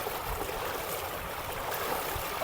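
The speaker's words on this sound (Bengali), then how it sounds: "এখানে স্রোত অনেক বেশি" Strong floodwater current rushes past in a submerged village, a steady broadband wash of churning water, close and continuous with no pauses.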